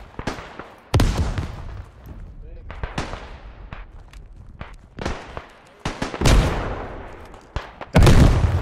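Gunfire and explosions in the World War I shooter game Beyond the Wire crack and boom in irregular bursts, several heavy blasts loud and close among sharper shots, with a player's voice mixed in.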